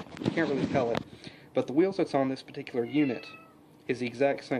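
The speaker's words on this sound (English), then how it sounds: "That was my cat." A pet cat meows briefly at close range while someone talks over it, reviewing a Johnny Lightning Ghostbusters 2 diecast twin pack.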